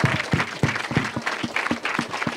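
A church congregation claps along in a steady rhythmic beat during a worship service, loud and close with regular pulses and no talking.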